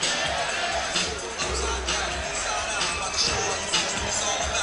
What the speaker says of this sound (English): the hometown hero taking the plaudits of the crowd